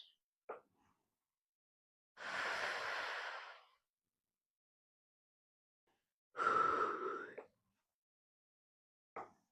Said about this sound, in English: I am yawning